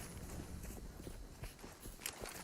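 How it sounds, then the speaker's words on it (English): Footsteps in Counter-Strike on the Overpass map during a Virtus.Pro versus Kinguin match, a faint series of quick, uneven steps over a low game ambience. "You can hear him falling back there. Large footsteps being made."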